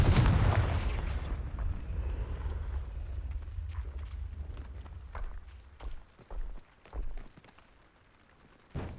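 A Confringo blasting spell going off in the Hogwarts Legacy video game on PS5, a loud booming burst at the start that decays into rumbling, followed by scattered footsteps and small impacts.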